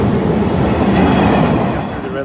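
Shinkansen bullet trains rush past a railroad crossing in Japan, producing a loud, close, sustained rumbling roar with rapid wheel clatter.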